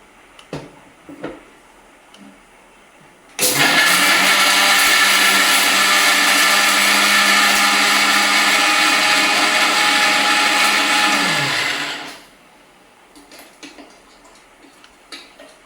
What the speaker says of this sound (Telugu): ఇప్పుడు దీన్ని ఫైన్ పౌడర్గా మిక్సీ చేసుకోవాలి